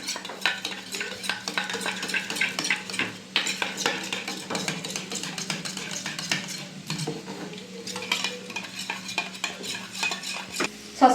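Soy sauce, tomato sauce and ground black pepper being whisked together in a bowl for chicken 65, a steady run of close utensil scrapes and taps against the bowl with no talking.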